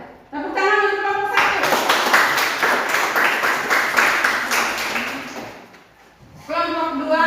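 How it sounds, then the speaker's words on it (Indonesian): A classroom of students claps for a student group, a burst of dense, loud, fast clapping lasting several seconds before fading out, with a voice talking briefly before and after. "Tepuk tangan untuk kelompok"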